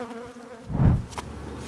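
Bees buzz at a beehive hidden from view, a steady hum that swells loudly and close for a moment before settling back to a lower drone, with no talking.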